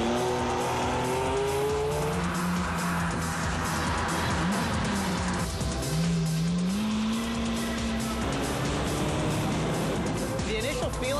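A Lamborghini Murcielago drives with loud engine tones rising and falling steadily throughout, joined by tire squeal in places, while people talk over it.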